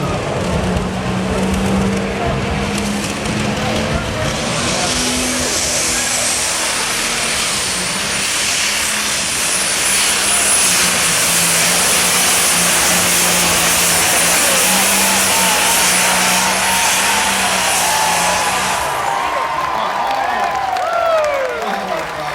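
A super stock pulling tractor engine at a county fair tractor pull in Chatham, New York revs hard with a sustained loud roar and a whining drone that holds, then drops away near the end.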